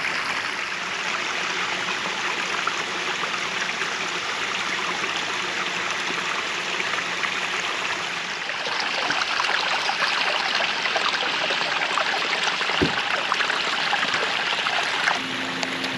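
Water from a natural-looking pondless waterfall spills steadily over rocks and a log into a stream, a continuous close, even rush that grows slightly fuller partway through, with no voices.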